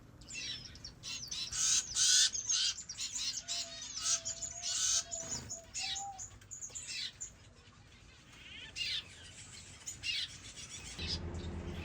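Finch parents feeding their fledgling chicks: a busy run of high, rapid chirps and squawky begging calls with a few brief wing flutters, fairly close and moderately loud.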